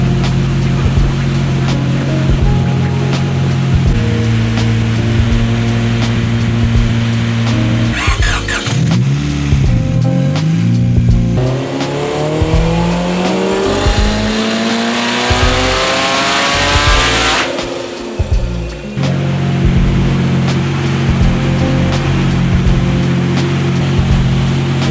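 A 1995 Honda CR-X Del Sol with a Garrett G40 turbo runs on a dyno, its engine idling, then revving hard and climbing through a long loud pull before dropping back to a rough idle.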